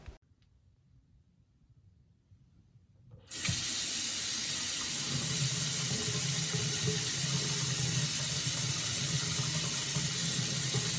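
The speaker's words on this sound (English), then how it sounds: "I'll leave the water running" A water tap is turned on after a few quiet seconds, then runs steadily into a sink as a loud, constant splashing hiss that continues to the end.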